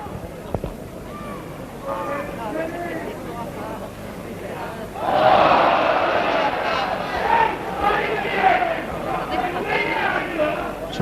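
A rugby league crowd at a Leeds versus Warrington club match lets out a sudden loud roar of protest over a suspected forward pass. It swells out of a lower murmur and holds on as a sustained, broad mass of shouting voices, with a commentator talking over it.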